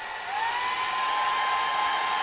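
A hair dryer blows steadily on rippled sycamore wood to dry it, a continuous whooshing hum with a high whine that rises slightly as it gets going.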